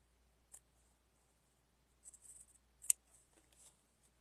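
Scissors snip the corners of fabric for a pieced tulip wall hanging, a few faint, crisp cuts in near-silence, with one sharper snip among short scattered clips.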